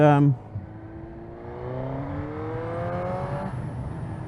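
A Suzuki GSX-R 1000 streetfighter motorcycle engine revs steadily upward on a test ride, with a rising whine that climbs over a few seconds. A brief voice is heard at the start.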